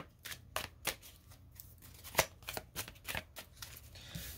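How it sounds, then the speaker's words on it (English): A deck of tarot cards being shuffled by hand, a quiet close series of crisp riffling bursts and soft slaps with brief pauses between them. "Two more shuffles."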